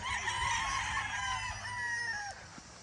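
Gray stag roosters crow in several overlapping, rising-and-falling calls, fairly close, with a low rumble of background farm noise and no speech.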